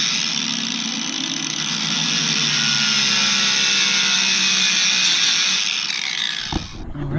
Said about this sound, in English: So I'm gonna have to take my grinder and grind some corners off there.